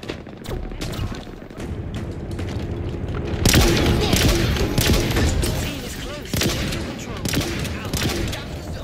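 Rocket explosions and gunfire in the video game Halo Infinite, a loud and chaotic mix of repeated shots and heavy booms that keeps going, with a sharp blast about halfway through.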